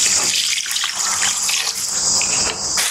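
Rice washing water poured steadily for about three seconds, a continuous close splashing gush with no voices over it.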